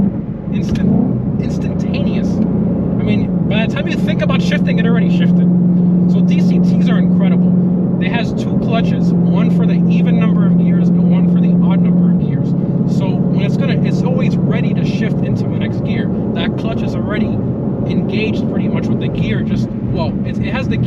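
A Ford Mustang Shelby GT350R or GT500 Track Pack engine runs loud and steady, its low rumble holding as it pulls through gear shifts under continuous excited talk from people in the car.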